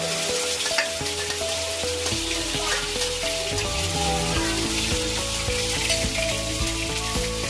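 Ginger garlic paste masala fries in hot oil over a medium flame, giving a steady, close, loud sizzle with faint stirring clicks throughout and no voices.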